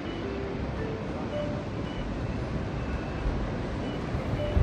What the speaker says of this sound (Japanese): 今日は波も穏やかです。